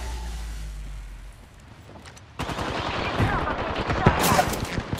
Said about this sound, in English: Target shots fired and they're hitting me.